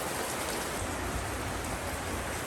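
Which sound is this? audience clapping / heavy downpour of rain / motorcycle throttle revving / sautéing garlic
heavy downpour of rain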